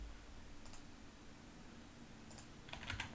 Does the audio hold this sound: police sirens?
no